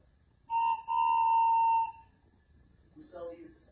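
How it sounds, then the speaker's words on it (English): A toy train whistle is blown in two close, loud steady blasts with a bright multi-tone chord, followed by a short softer toot. "Train whistles. This is a real thing, guys."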